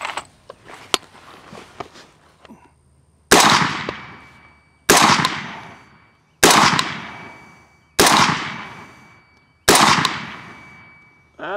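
A PSA Sabre AR-15 rifle firing PMC Bronze .223 55-grain rounds outdoors: five loud, sharp shots spaced about a second and a half apart, each ringing out in a decaying tail, after quieter handling clicks at the start.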